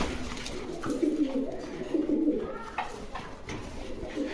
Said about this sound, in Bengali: দেখেন ফুললি ফ্রেশের ভিতরে একজোড়া লোটন কবুতর।